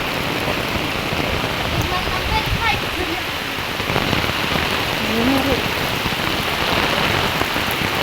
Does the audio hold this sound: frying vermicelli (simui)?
no